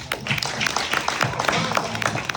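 An audience at a Boys to Men event applauds, with a burst of scattered clapping continuing for a couple of seconds, close and moderately loud.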